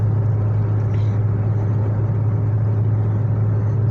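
A car driving on a road near Branson, heard from inside as a steady, loud low engine hum and road rumble with no break.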